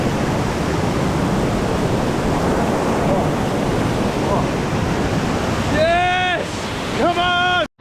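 Sickle Tarn waterfall rushes in a loud, steady broadband roar of falling water, close by, with a voice speaking over it in the final two seconds.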